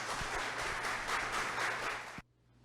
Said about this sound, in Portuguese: para quem eu peço a vocês uma salva de palmas